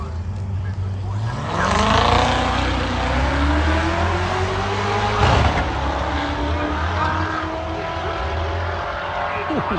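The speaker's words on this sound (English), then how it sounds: "This is where they start racing down here." Race cars tear past on the track at the Geelong Revival, a classic motoring event, their engines rising and falling in a loud, sustained roar with gear changes, heard from the trackside among the crowd's ambient noise.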